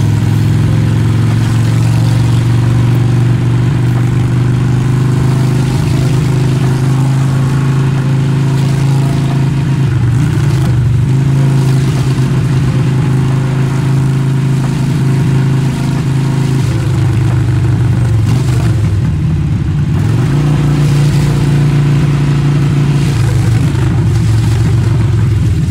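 A Harley motorcycle rides through traffic in Los Angeles, its engine holding a steady, loud, low drone throughout with slight shifts in pitch and no talking.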